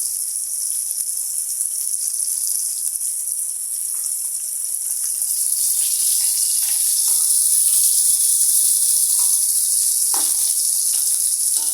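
Eggplant slices frying in a pan for begun bhaji give a loud, continuous hiss and sizzle that swells slightly partway through, with a few faint pops over the steady crackle.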